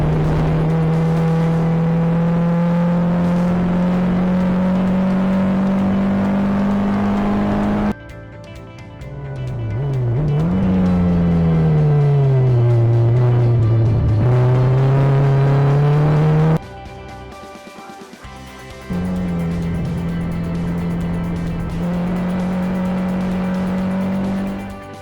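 Porsche 944 race cars at Phillip Island drone past with steady, loud engine notes held at high revs, the tone swooping down and back up as gears shift, with one car fading before another roars in close.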